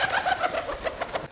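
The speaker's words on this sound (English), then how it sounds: "Pigeons, for example, sound like this." Pigeon wings flap in flight in a quick, regular series of soft beating bursts, close and fairly loud, with no voices.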